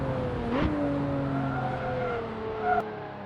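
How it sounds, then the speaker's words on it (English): A Lotus race car brakes hard into a corner with a brief tire squeal, then its engine climbs steadily as it accelerates, heard from a distance. "The Lotus demonstrates incredible stability through the corners and jaw-dropping acceleration on the straights"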